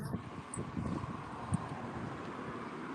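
Gusty wind buffets the microphone outdoors in a steady low rumble, with faint rustling and brief thumps, while people talk nearby.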